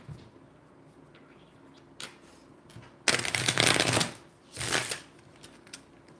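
Tarot deck being shuffled by hand, a few brief riffling bursts with two longer louder flurries of card flutter and small taps between them, close and fairly quiet.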